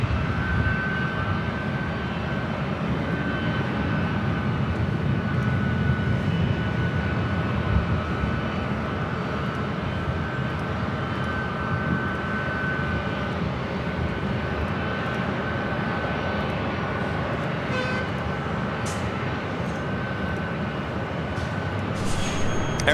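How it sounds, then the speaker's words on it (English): Delta Airlines Airbus A319 arriving at LAX from Portland, heard as a steady, fairly distant engine roar with a faint high whine that holds evenly throughout, no voices present. "Next arrival is Delta Airlines flight 2345 coming in from Portland,"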